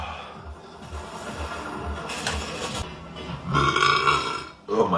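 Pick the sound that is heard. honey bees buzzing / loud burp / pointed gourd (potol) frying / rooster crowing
loud burp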